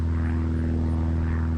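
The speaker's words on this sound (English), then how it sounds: "Let me make sure I see where this airplane's at." Propeller airplane flying overhead, heard near a small Holy Stone HS790 folding camera drone, as a loud, steady droning hum with a constant low buzz throughout.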